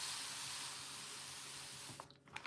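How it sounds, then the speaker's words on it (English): A handheld spray bottle mists water onto an indoor plant fountain in one long, soft hiss that runs for about two seconds, then cuts off, leaving a few faint drips and clicks. "So I'm just spraying it. Y'all see me with my spray bottle."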